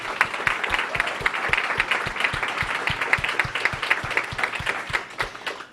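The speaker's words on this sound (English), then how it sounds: "can we just have one more round of applause for our panelists?" An audience at a union-organizing panel event gives the panelists a round of applause, steady moderate clapping with a regular low thump pulsing beneath it throughout.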